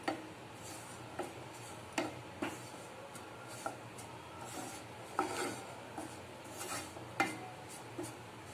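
Dry coconut and khoya being lightly roasted in a pan, heard as soft repeated scraping and tapping of a spatula against the pan at a steady, fairly quiet pace, with no talking.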